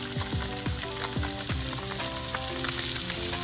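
Seasoned flounder fillets frying in a hot pan, a dense close crackling sizzle with scattered pops, loud and constant throughout and without any voices.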